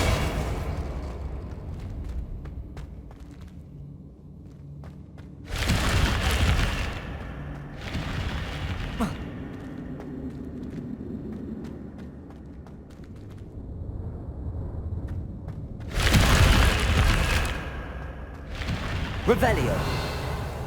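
Confringo blasting spells going off in Hogwarts Legacy, a few loud booming bursts separated by quieter stretches of game ambience and voices.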